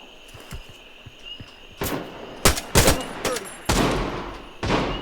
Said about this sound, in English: We're taking fire in multiple directions.